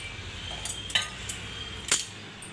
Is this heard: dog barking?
no